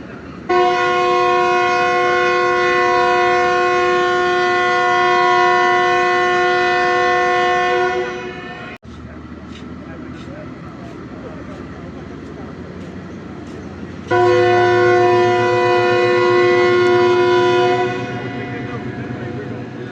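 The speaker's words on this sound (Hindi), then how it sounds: "ओके जी, विसल भी थर्ड हो गया" A train at Lalamusa sounds a long, loud harmonic whistle before departure. It holds steady for several seconds, stops, then blasts again after a rumbling pause, close and dominant over the idling engine and the cold-weather station ambience.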